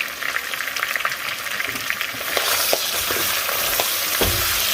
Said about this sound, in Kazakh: Етті қылып қылып қуырып алдым. Енді үстіне пиязды, чеснокты қосамын.